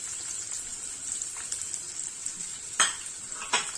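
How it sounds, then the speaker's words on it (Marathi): Chopped onion hits a pan of frying roasted peanuts for masale bhat, giving a continuous bright sizzle with a few sharp spatula scrapes and clinks near the end. "शेंगदाणे परतल्यानंतर कांदा घालायचा"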